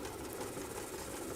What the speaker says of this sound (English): But the machine sews a little more slowly